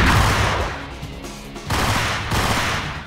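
Rapid gunfire bursts in the Max Payne video game fill a warehouse shootout, loud close shots in uneven volleys with short pauses between them.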